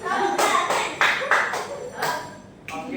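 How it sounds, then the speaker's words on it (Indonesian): A small group in a classroom claps hands in a few short, separate bursts of sharp, close claps with brief pauses between them, with faint background voices. "Tepuk tangan dulu."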